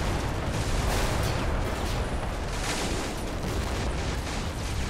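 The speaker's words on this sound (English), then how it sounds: "Thanks for the friendly bombardment!" Artillery bombardment during a D-Day mission in the video game Normandy 44: a dense, continuous roar of heavy blasts and rumbling explosions that overlap into one loud wall of noise.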